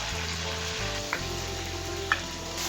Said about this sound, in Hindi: अब दही के साथ गोश्त की भुनाई कर लेंगे।